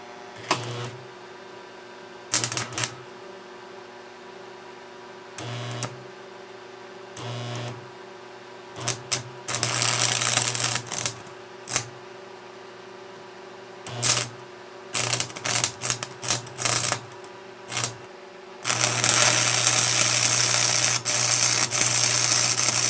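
A cheap $20 stick welder turned all the way up strikes an arc with 6011 rod, giving harsh bursts of crackling sizzle that start and stop repeatedly, with a long steady buzzing run at the end over a faint low hum.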